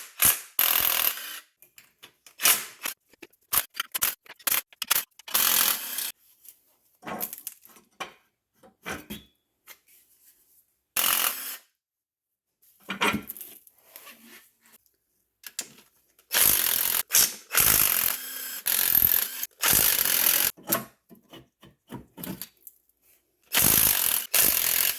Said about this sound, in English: I'm going to begin by removing these exhaust manifolds from this engine.